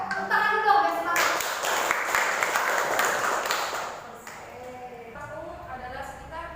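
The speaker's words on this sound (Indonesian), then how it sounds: "Tepuk tangan dulu dong guys, semangat." A classroom bursts into a short round of clapping for a student group, many hands applauding together for a few seconds before fading back under speech.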